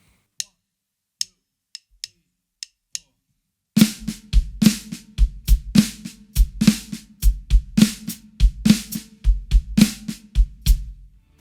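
A few sparse stick clicks, then a slow flam paradiddle sticking with some strokes replaced by bass drum: snare strokes interleaved with deep kick-drum thumps, played slowly and evenly, close and clear.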